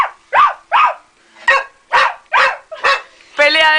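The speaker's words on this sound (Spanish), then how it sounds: "Pelea de ladridos." Two dogs trade sharp, loud barks in a playful barking fight, about seven rapid close yaps in quick succession, ending in a higher whining yelp.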